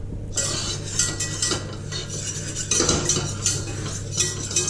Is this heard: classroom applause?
no